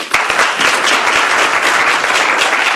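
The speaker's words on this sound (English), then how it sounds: "If we give a round of applause" Audience at a Yale Innovation Summit panel on zoning gives the panelists a round of applause, dense and even clapping from a crowd lasting the whole stretch, fairly loud and close.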